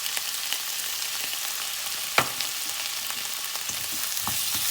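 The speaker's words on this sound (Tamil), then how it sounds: "நல்லா மிக்ஸ் பண்ணி விட்டுக்கோங்க." Tomatoes and turmeric sautéing for a village-style fish curry, a continuous close frying hiss with one brief utensil knock midway and faint stirring scrapes.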